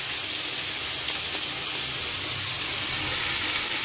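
Ridge gourd pieces drop into a hot pan and set off a steady, loud sizzle and hiss that runs without a break and without any talking.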